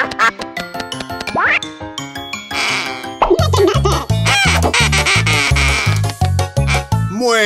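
A cartoon duck in a Pocoyo episode quacking repeatedly in quick nasal bursts alongside bright, bouncy children's music, loud and close.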